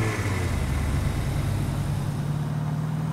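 Vehicle engine in the battle-royale shooter game Rules of Survival: a steady, low droning hum like an idling car, unbroken and fairly loud for about three seconds.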